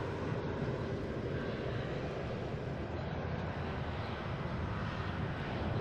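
A Delta airliner bound for Barcelona departs Boston Logan, a steady, distant engine rumble holding a fairly even level throughout, with no voices over it.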